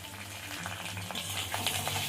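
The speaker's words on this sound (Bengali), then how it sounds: "এবারে আদা বাটাটা দিয়ে দেবো।" Ginger paste frying with turmeric-coated potatoes in a pan, a soft, steady sizzle with faint crackles and light stirring scrapes, quiet and close, with a low background hum and no speech.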